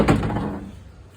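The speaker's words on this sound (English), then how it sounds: "Shut the door." A single door of a 1991 Toyota pickup with the 22RE four-cylinder is shut: one close, heavy thunk that dies away over about a second.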